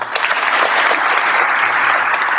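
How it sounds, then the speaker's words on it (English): A studio audience claps on a podcast set, a dense, loud burst of hand claps that holds steady without talk. "Our studio audience, give us some hand claps."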